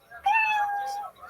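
A single cat meow, played as a sound effect to signal that a timed performance is over, rising and sustained for about a second, loud and clear against a quiet background.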